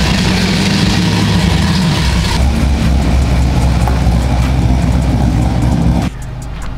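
A Lamborghini Huracán idles loudly close by with a deep, steady rumble while being edged into a shop, then the note drops abruptly to a quieter, lower hum near the end.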